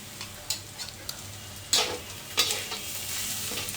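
Onion, garlic, black pepper and coriander powder fry in a pan, a steady close sizzle broken by several sharp stirring scrapes and clatters, with no talking.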